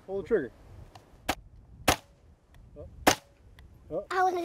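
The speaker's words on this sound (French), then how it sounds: "on va tirer au fusil maintenant. Mets ta main là et appuie sur la gâchette." A child fires a rifle: three sharp, loud gunshot cracks spaced about a second apart, with brief bits of talk around them.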